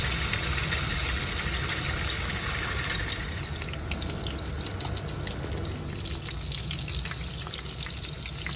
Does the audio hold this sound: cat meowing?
no